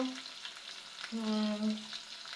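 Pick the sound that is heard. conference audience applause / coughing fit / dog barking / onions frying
onions frying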